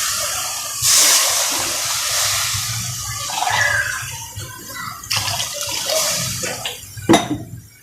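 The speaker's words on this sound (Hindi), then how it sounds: "ये हमने इसमें 4 गिलास पानी के ऐड करें।" Water from a glass poured into a pot of rice for dal chawal in a home kitchen, several splashing pours with brief pauses between them, close and moderately loud.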